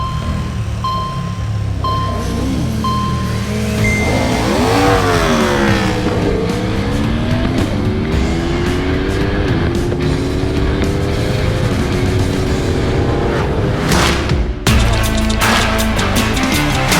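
Hypernaked motorcycles, including a KTM, Ducati and Aprilia, launch in a drag race, their engines screaming upward through rising gear shifts for several seconds, loud and continuous, ending with a sharp burst near the end.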